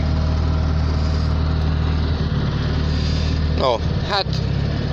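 A small Polski Fiat, suffering carburetor trouble, idles in -9 °C cold with a steady, slightly uneven low engine drone close by. Someone talks over it briefly near the end.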